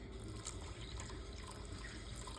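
Water is poured steadily into a pot of chile black bean stew, a continuous close splashing and rushing liquid sound that fills the whole moment with no talk.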